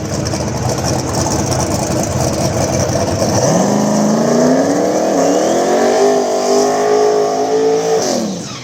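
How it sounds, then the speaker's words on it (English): A drag racing car at an outlaw small tire radial event does a burnout, its engine idling roughly before revving hard and holding a loud, rising roar for several seconds, then cutting off abruptly; no talk. "Good burnout right there from T Wayne"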